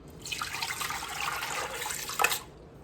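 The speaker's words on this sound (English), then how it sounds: "Just rinse it, get everything out of my bowl." Tap water runs into a kitchen bowl to rinse out leftover rice pudding mixture. It makes a close, steady splashing rush for about two seconds, then stops abruptly.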